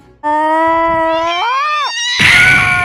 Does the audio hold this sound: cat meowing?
yes